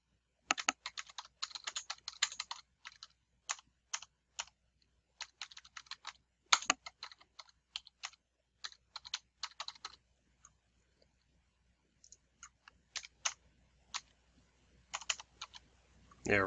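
A lesson title is typed on a computer keyboard, bursts of crisp, close key clicks with short pauses between words, quiet and otherwise silent.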